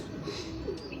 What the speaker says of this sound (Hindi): इस वक्त मेरे हाथ में ये कबूतर है